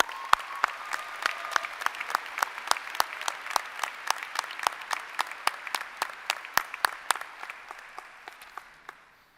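Audience at a university School of Management commencement applauds the faculty, a steady patter of many clapping hands with sharp individual claps standing out, sustained throughout without speech.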